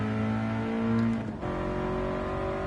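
A Toyota GT86 Limited, a 200-horsepower rear-wheel-drive road car in Gran Turismo 7, idles and revs with a steady engine drone, a brief dip in the middle before the tone settles again, loud and close.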